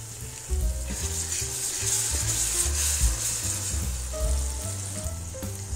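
Tomato paste sizzles and fries loudly in a pan with potatoes and radish pods. There is steady crackling throughout and a few stirring scrapes in the pan. No voices are heard.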